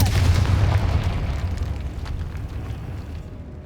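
A Confringo spell in Hogwarts Legacy detonates in a loud, deep booming blast that rolls on as a long rumbling decay and fades over a few seconds, with no voices over it.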